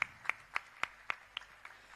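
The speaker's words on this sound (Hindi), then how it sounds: "साथियों, तालियों की कमी नहीं होनी चाहिए।" At a prize ceremony, a few hands clap sharply for a first-place winner, with about eight distinct claps in an even, slowing rhythm that fades as it goes, faint and set against a quiet room.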